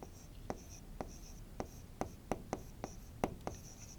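Pen writing on paper at close range, a series of short scratchy strokes at an uneven, roughly half-second rhythm, over faint room noise with no clear speech.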